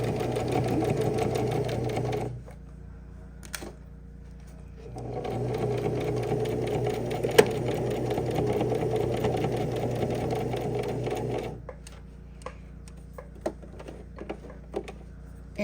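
A sewing machine runs in two steady bursts while stitching across the corners of a fabric purse, its fast even rattle close and loud, with a quiet pause between and a few small clicks and handling sounds toward the end.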